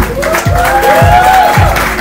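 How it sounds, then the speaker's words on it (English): Crowd applause and cheering for winners at a hackathon grand finale in Bangalore, loud and dense with rhythmic thumping beats and a tonal sweep over it. "Ladies and gentlemen, a huge round of applause for our winners."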